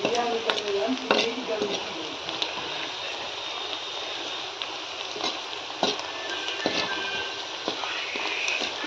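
Onions frying in a pan for chicken curry, a steady, even sizzle with sharp scrapes and clicks from stirring scattered throughout.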